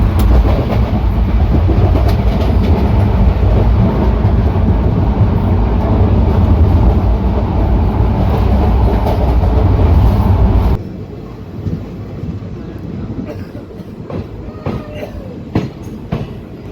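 The Koyna Express, a Kolhapur to Pune passenger train, rumbles loudly along the rails with a continuous roar and wheel clatter, then the noise drops abruptly to a quieter interior hum with faint clicks.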